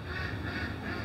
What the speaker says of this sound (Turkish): Bu da ördeğimizin sesi.